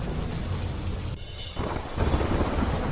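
Steady heavy rain falling in Bageshwar, Uttarakhand, a dense continuous broadband wash, with a brief dip in intensity partway through before resuming at full strength.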